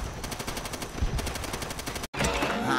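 Gunfire in a Call of Duty: World at War campaign, a rapid string of automatic shots in an even, fast rhythm, a brief cut of silence, then more sustained firing, loud and close.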